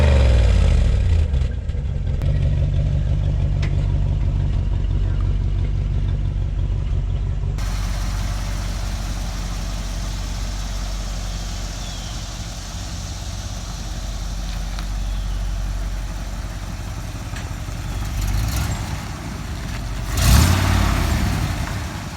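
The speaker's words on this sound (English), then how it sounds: "here we are driving the Corvette" A 1966 Corvette engine running on a drive, a loud steady low rumble with road and wind noise, swelling briefly near the end as it picks up.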